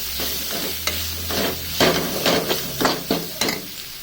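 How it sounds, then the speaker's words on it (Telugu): Ginger garlic paste frying in a pan while a spoon stirs it, sharp repeated scrapes and knocks against the metal over a soft sizzle, close and fairly loud. "అల్లం వెల్లుల్లి పేస్ట్ వేసుకొని బాగా వేసుకోవాలి"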